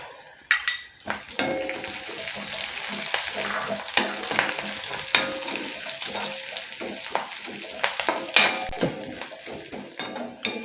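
Ginger, garlic and green chilies fry in hot oil in a pan for an egg roast, giving a steady sizzle broken by scraping stirs and light clinks of a spoon against the pan, close up.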